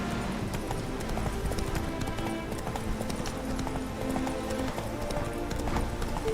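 Galloping horse hooves in The Witcher 3 video game: a steady, continuous clip-clop at close range, with an occasional whinny over dense game ambience and music.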